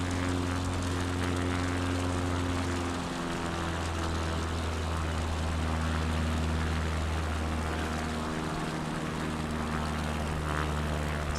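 Steady, droning propeller aircraft engine in a flight simulator game over Idaho backcountry, loud and continuous throughout, with a low hum that dips briefly in pitch as the throttle changes, no talking.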